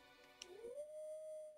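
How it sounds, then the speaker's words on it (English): In the Castlevania Haunted Castle Reimagined video game, a wolf lets out a single long rising howl that settles into a steady sustained note. It is fairly faint and sits under a quiet musical backdrop. "There's the Wolf Howl."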